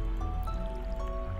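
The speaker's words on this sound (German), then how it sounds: "Aber ja, wieder dran, hier unser Feld zu gießen." Crops being watered in the farming game Stardew Valley give a soft, faint watery trickle and drip. It is brief and quiet, over a low background hum.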